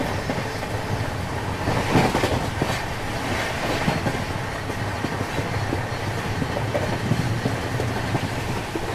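India's fastest double decker train, a high-priority express near Surat, rolls steadily along the rails with a continuous loud rumble and faint rhythmic wheel clatter throughout.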